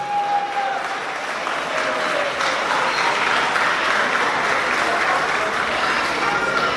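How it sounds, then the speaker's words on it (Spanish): Sustained applause from a crowd at a birthday celebration, loud and steady throughout with a dense clatter of clapping hands. "Que se escuche fuerte, fuerte el aplauso."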